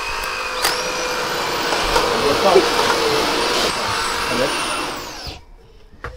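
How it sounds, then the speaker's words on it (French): A vacuum cleaner with power that adjusts to the amount of debris sucks large bits off a floor, a loud, steady motor whine with rattling pickups that shuts off near the end, with a person talking over it. "Le gros morceau, il les attrape."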